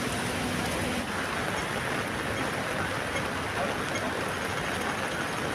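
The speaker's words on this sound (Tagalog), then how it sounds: "Para lakas talaga ng ulan." Heavy rain pours down outdoors in a steady, dense hiss that stays level and fairly close throughout, with no pauses or voices.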